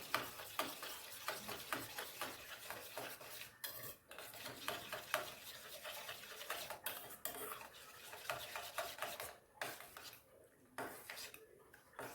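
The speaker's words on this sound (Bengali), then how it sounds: "প্যাকেট গুঁড়ো দুধ মেশাচ্ছি" Packet powdered milk stirred into payesh in a pot, a close run of rapid metallic scraping and clinking from a spoon against the pan, busy and continuous with a few brief pauses.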